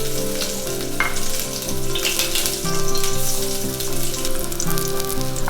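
Large-cut garlic cloves frying in sesame oil, a steady, close, fairly loud sizzle with occasional stirring, running throughout under faint steady tones and no talk.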